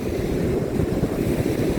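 Sea waves wash onto the shore in a steady, loud roar of surf, with wind buffeting the microphone throughout and no voices.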